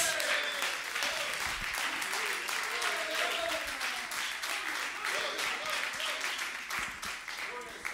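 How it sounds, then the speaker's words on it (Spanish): Congregation in a church clapping together in sustained, dense applause, steady and fairly loud across the whole span, with faint voices mixed underneath. "Le damos un aplauso a Dios."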